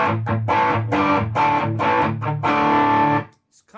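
Electric guitar played through a Nobels ODR1 overdrive pedal into a Fender Deluxe Reverb amp, a run of loud, driven chords and notes ringing steadily before stopping abruptly.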